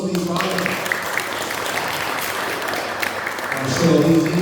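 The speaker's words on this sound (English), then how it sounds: "Another round of applause, please, Ryan." Audience applause at a student music concert, a steady broadband wash of clapping running the full length, with a voice speaking over it and stronger tonal sounds rising near the end.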